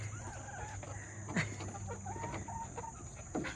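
Backyard chickens cluck softly and steadily, with scattered short calls and one sharper squawk, heard close in a quiet outdoor setting with faint background hum.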